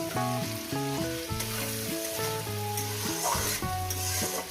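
Onions frying in a pan for a mutton curry give a steady sizzle that stays under loud tonal background music throughout.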